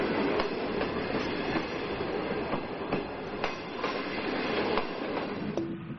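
A train travelling through the forests of northern China in Mohe County rumbles steadily from inside, with rhythmic clickety-clack wheel beats and a brief faint squeal near the end.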